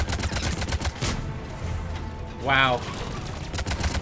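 Rapid gunfire bursts in Mass Effect 3, a quick rattling series of shots with a short whirring weapon sound midway, while a player's voice exclaims over the action.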